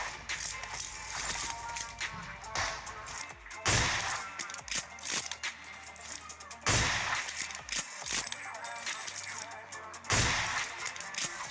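Kar98 bolt-action rifle fire in a battle royale video game: three loud, sharp shots a few seconds apart, with rustling and mechanical handling noises in between.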